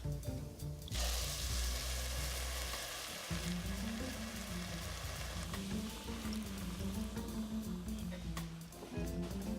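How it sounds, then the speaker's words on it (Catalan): Rice fries in a pan with paprika, a steady loud sizzle and crackle close up, with occasional scraping stirs and a brief clunk, continuing throughout without talk. "hi afegim l'arròs i el fregim lleugerament fins que comenci a estar transparent"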